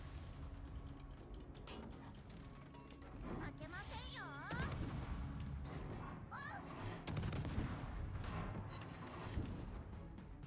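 Naval gunfire in a warship video game aboard the French destroyer Marceau: repeated sharp gun bursts and crashing impacts, with whistling shell sounds, over a continuous battle background.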